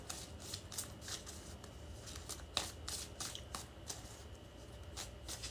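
Tarot cards are shuffled by hand in quick, soft riffling bursts, a rhythmic flutter of papery snaps close to the listener with no voices.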